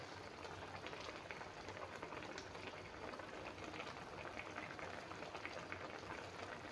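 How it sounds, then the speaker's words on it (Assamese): Rohu fish curry with pumpkin seeds simmers in a pot with a faint, steady bubbling boil that continues evenly, with no voices. "এতিয়া অলপমান টাইম উতল আহিব দিছোঁ।"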